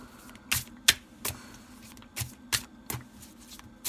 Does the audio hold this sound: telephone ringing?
no